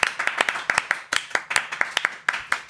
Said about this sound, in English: can we please give ourselves a round of applause